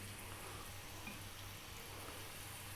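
Thin chicken pieces frying in olive oil over high heat give a steady, quiet sizzle that holds evenly throughout with no voices.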